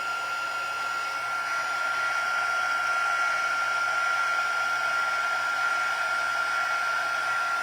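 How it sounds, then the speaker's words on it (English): Heat tool blowing steadily on embossing powder for a Christmas card, a continuous even hiss and whir like a hair dryer, close and constant throughout with no talk. "So I'm just holding my heat tool there."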